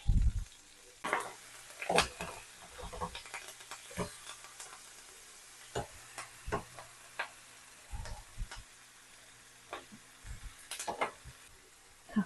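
Pomfret fish fries in hot oil for a crispy fry, giving scattered sharp crackles and pops over a quiet sizzling bed, irregular and close, with occasional stirring clicks.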